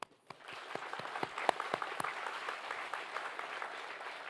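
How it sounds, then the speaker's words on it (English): Scattered claps grow into full audience applause at a university convocation ceremony, moderately quiet and sustained, with a few sharp individual claps standing out early. "Let's clap."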